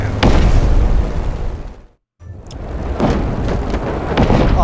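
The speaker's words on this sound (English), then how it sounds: "Subtle will make a big boom boom, as in explosions." Explosions in the Just Cause 3 video game: loud, booming blasts with a heavy rumbling tail, cut by a brief silent gap before more roaring detonations follow.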